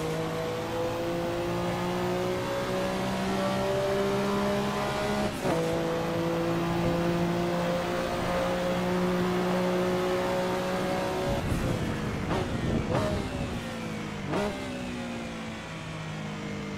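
A Porsche 962 race car in Assetto Corsa, steady loud engine drone with a gearshift dip, then a rapid series of upshifts and revving near the end, no talking.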